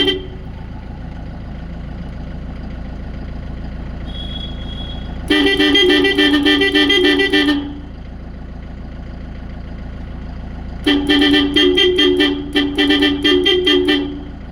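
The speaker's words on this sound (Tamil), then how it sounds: "இந்த 3 ஆரனில் தான் இவ்வளோ சவுண்டு கேட்குது" A 12-volt Roots horn paired with truck air pressure horns honks in two loud sustained blasts, the second broken into rapid repeated pulses, over a steady idling engine hum.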